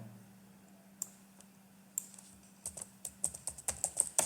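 A computer keyboard is typed on, starting with a few scattered clicks and then building into a quick, irregular run of sharp keystrokes, close by over a faint low hum.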